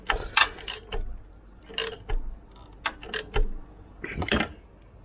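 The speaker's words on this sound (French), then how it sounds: "Et on serre. Couple de serrage, serrage normal." A ratchet tightens a bolt to normal torque during a timing belt replacement on an Ibiza, giving short bursts of sharp clicking pawl strokes, close and distinct, with brief pauses between swings.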